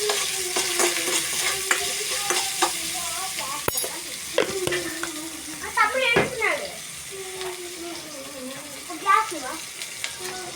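Onions fry in a pan with a gentle sizzle while a spoon scrapes and clatters at an irregular rhythm. A voice is heard intermittently.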